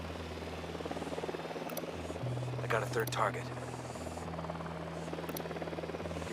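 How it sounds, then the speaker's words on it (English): A surveillance drone in the video game Ghost Recon Wildlands hovers with a steady, droning electric buzz throughout, while a voice briefly speaks over it. "The drone is up."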